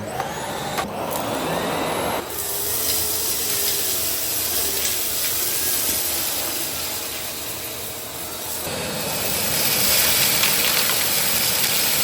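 A Dyson Cinetic Big Ball Animal 2 vacuum cleaner runs on carpet with a continuous loud whirring drone, shifting in tone as it moves and swelling near the end.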